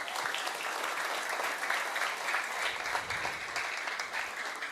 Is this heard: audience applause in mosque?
yes